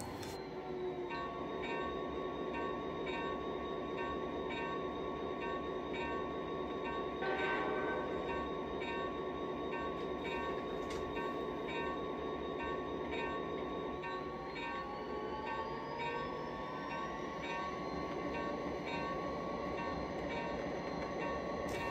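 Simulated model train sounds from a JMRI Virtual Sound Decoder, with a continuous rumbling engine and rail noise, steady and close, with faint squeals and a brief horn-like tone, no talking.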